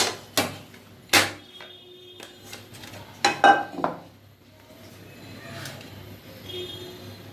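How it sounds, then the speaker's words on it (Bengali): A plate being set into a kadai to flip a roti while making porda biryani: a series of sharp metallic clanks and taps of plate against the pan, clustered near the start and middle, then quieter handling. "প্লেটটাকে ভালোভাবে কড়াইয়ের মধ্যে দিয়ে জাস্ট উল্টে ফেলতে হবে"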